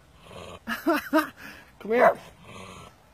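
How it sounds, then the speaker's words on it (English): A dog growls and whines in short bursts at a statue of Padraig Pearse in St Enda's Park, close and fairly loud, and a person speaks briefly. "Why do you bark at Padraig Pearse's statue"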